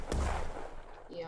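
A grenade explodes in the Trenches game, giving a single deep, muffled boom that rumbles briefly and fades, with a voice faintly present at the end.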